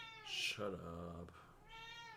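A pet cat meows while being petted, one drawn-out close meow followed by a second softer, shorter meow, with no talking over it.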